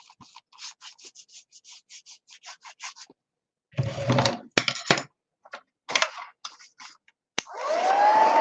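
Hair dryer blowing on an altered book cover in a mixed media craft session, heard in a few bursts of loud airy roar after a run of small clicks and taps, the last blast steady to the end.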